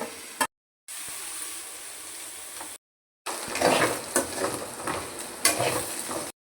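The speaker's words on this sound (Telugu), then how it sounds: "పసుపు దొండకాయ ఫ్రై చేస్తున్నానండి" Thinly sliced ivy gourd fries with ginger-garlic paste and turmeric in a pan: a steady, loud sizzle with scraping stirs, broken by two brief silent cuts, the stirring growing busier toward the end.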